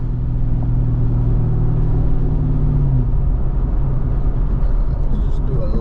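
A stock 1994-95 Ford Mustang Cobra accelerates with a loud, continuous engine rumble heard from inside the car, the tone rising and then settling, while a voice talks over it.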